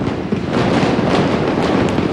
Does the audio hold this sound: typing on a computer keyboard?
no